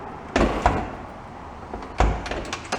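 A flood-damaged Porsche 911 on a lift has its door shut in a few dull thuds, two close together and another a moment later, against a quiet background.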